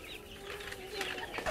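Chickens on a Korean poultry farm fed far-infrared-treated sulfur cluck and murmur continuously at close range, with a faint steady hum beneath and a slightly louder burst near the end.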